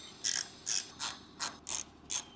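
A ratchet clicking as bolts are tightened back on a Himalayan 450 air filter housing, six short bursts of rapid ratcheting in a steady rhythm, close and clear with no voices.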